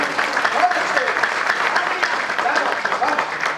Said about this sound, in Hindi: तालियां या तो मिलकर बजाइए